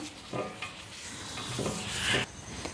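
A tissue wipes across a large griddle pan with soft rubbing, scraping strokes, in uneven bursts that swell and fade, close up and fairly quiet, with no voices.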